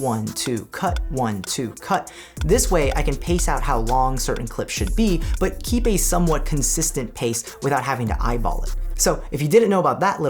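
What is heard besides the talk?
No everyday noise stands out behind the speech.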